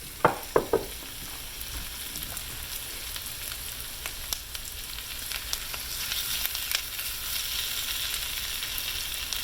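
Round steak for old-fashioned Southern Swiss steak sizzling steadily in a brazier, a continuous close frying hiss with a few sharp pops and crackles near the start.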